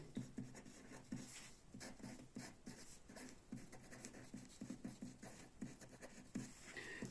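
Quiet scratching of pen or marker writing out a chemical reaction equation, irregular short strokes and taps, faint and close with no talking.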